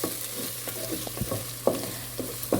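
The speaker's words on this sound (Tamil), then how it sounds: "இதை சேர்த்துட்டு நம்ம நல்லா ஒரு 10 செகண்ட் நல்லா வதக்கி விட்டுக்கலாம்." Spices and biryani masala stirred and sautéed in hot oil for kuska biryani, a soft continuous sizzle broken by scattered sharp clinks and scrapes of a spoon against the pan, close and moderately quiet with no talking.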